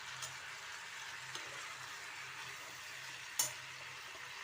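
Lightly fried tomatoes hit a pan, giving a faint, steady sizzle with a couple of sharp clicks from a spoon or utensil. No one speaks.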